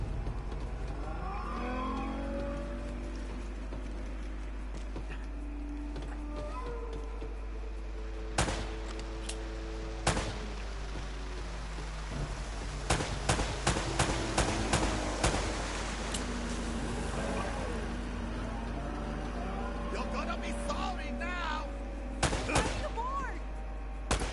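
Scattered gunshots from a shootout in the Uncharted video game, sharp isolated cracks at first, then denser bursts toward the end, heard over a steady engine-like drone and game music.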